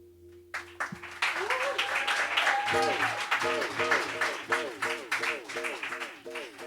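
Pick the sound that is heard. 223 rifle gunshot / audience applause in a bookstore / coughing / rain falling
audience applause in a bookstore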